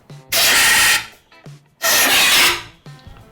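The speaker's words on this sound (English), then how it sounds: "Just like any other hand grip, you do put some air in and pull it out." A rubber hand grip is worked off the handlebar of a Ducati Panigale 959 Corse with air pushed in underneath. Two loud, broad rasping pulls of about a second each come close up, with quieter rubbing between them and no talking.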